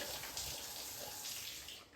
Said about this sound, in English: So if you turn it downwards, you can see a very nice waterfall sprout.